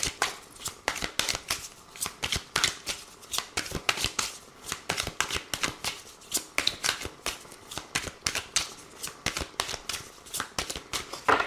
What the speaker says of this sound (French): on va voir aussi les messages avec l'oracle des miroirs